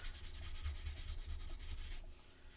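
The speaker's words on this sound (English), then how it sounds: "probably a good idea to get a little bit of tissue, give that a little bit of a rub" Tissue rubbed briskly back and forth over a gold stamped paper tag in quick, soft, faint swishing strokes, alone with no talking.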